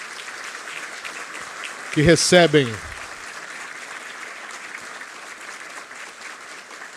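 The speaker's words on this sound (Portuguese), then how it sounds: "E agora os aplausos dos nossos agraciados" A ceremony audience applauds honorees receiving the centenary collar. Steady clapping carries through the whole stretch, and a speaker's voice briefly cuts in near the middle.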